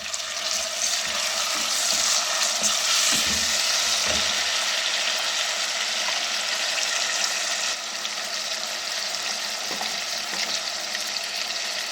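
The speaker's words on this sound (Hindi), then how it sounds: "तो इसको अब 2 से 3 मिनट आप भूनें।" Garlic and chopped tomatoes fry in a pot for palak chana dal, a steady close sizzle that carries on unbroken, easing slightly partway through, with a few faint scrapes near the start and no talk.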